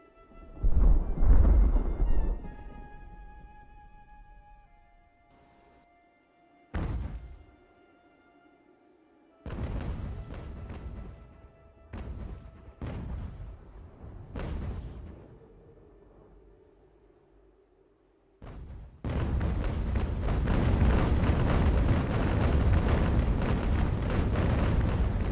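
Ship cannons firing in a naval age-of-sail battle game, heard as several heavy booms spaced apart, followed by a loud sustained rumbling barrage, with no speech.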